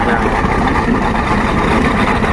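A 1949 John Deere MC tractor engine runs steadily at a loud, close, even idle, a continuous low rumble with no breaks.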